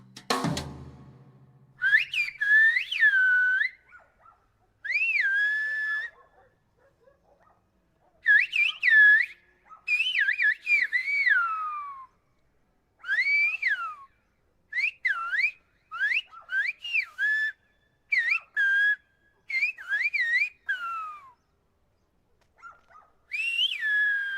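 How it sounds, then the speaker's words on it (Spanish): Shrill, pitch-bending whistles of the Canary Islands whistled language exchanged in bursts with short pauses between them, two whistlers calling back and forth in conversation. "Así suena una conversación entre silbadores canarios."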